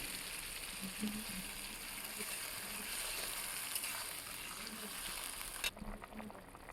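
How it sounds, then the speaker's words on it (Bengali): Potato curry with papad bubbling in water in a pan, a steady simmering sizzle running throughout at a constant level, with a brief clink near the end. "তো দেখুন খুব ভালো করে ফুটে এসেছে"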